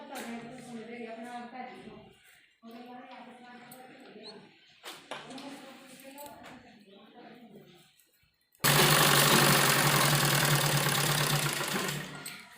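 A sewing machine running steadily and loudly while stitching a newborn baby dress. It follows several seconds of someone talking and keeps going unbroken to the end.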